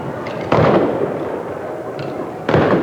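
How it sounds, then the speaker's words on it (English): Sharp bursts of celebratory gunshots pop in clusters, loud and crackling, with short pauses between volleys over a busy outdoor background at a 1988 city festival parade with Indian dancers. "Those gunshots are part of a celebration, not to worry anybody."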